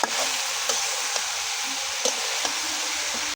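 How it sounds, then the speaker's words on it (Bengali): Potato bhaji sizzling and frying in a blackened wok over a clay stove, a steady hiss broken by several sharp clicks and scrapes of stirring. "এখনো হয় নাই, লাটতেছি।"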